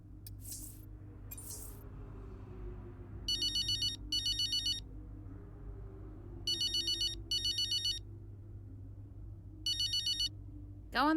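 An in-game telephone ringtone from the F1 23 racing game story mode, sounding in three clear pairs of electronic trills at a steady rhythm over a low background music bed, with no speech.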